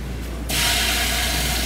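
Cooking oil spray hisses onto a pan for making Italian meatball heroes: a sudden, loud, steady aerosol spray starting after a brief quiet moment and continuing to the end.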